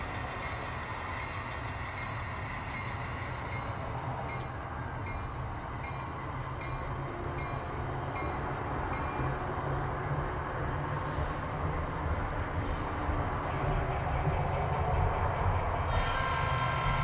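Railroad cars being shuffled by a train in Chillicothe during switching work, a steady, loud rumble of rolling wagons and engine throughout, with faint metallic squeals and clanks rising near the end.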